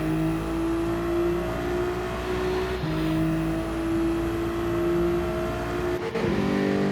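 A Jaguar race car engine in a racing video game on the Fuji circuit, a steady high droning whine holding pitch and shifting up briefly around the middle and near the end, with no talk.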